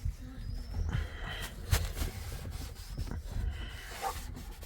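A polish-soaked sponge rubbed over a car's interior trim, giving soft, repeated scrubbing and friction strokes at close range with a few sharper squeaks, steady throughout.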